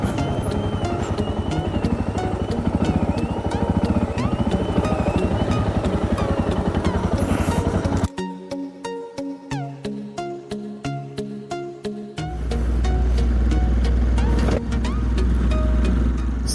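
Dual sport dirt bikes ride along a road near Lost Lake, Oregon, with a loud, throbbing engine roar and wind rush, briefly easing to a rhythmic pulsing before the engine roars up again.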